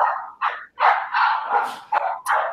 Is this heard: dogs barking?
yes